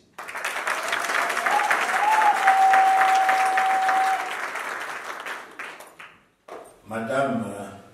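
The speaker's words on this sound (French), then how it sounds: "On applaudit pour eux." A crowd applauds a couple at a civil wedding ceremony, the clapping swelling strongly then tapering off over several seconds, with a brief tone ringing through it and a voice speaking afterward.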